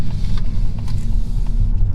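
A 2020 Mazda3 Hatchback drives and makes a turn, heard from inside the cabin as a loud, steady low engine and road rumble.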